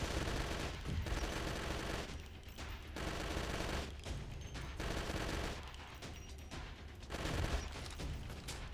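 Sustained automatic rifle fire from the video game Left to Survive, rattling in dense bursts with brief pauses between volleys, loud and close throughout with no talking.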